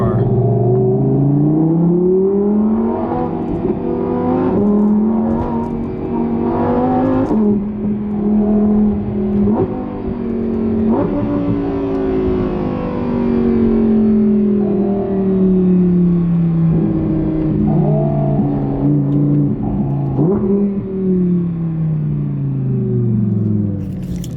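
A Lamborghini engine in Corsa mode revs loudly and steadily close up, pitch rising and falling with the throttle, a deep rumbling drone throughout.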